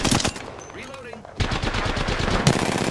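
Rapid automatic gunfire in Apex Legends rattles loudly in quick bursts, pausing briefly before another sustained string of close shots.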